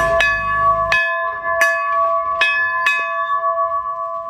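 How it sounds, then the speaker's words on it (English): A single restored old bell is struck five times at uneven intervals, each clear metallic strike leaving a long, ringing tone near 282 Hz that overlaps the next. "The frequency of our bell rings at 282 Hz."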